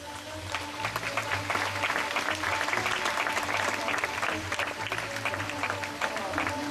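A sea lion named Cali slaps its flippers together at an aquatic show, steady clapping over crowd noise and a low background hum.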